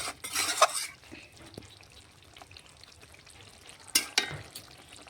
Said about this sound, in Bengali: আবারও নাড়াচাড়া করে জলটা কড়াতেই যেটুকু জল আছে ওটা শুকিয়ে নেব এইভাবে